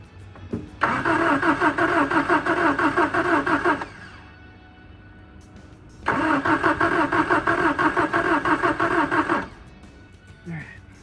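A 1979 MG Midget 1500 engine cranks over on its first start attempt in two long, loud bursts of steady starter churning, a pause between them, without catching to run.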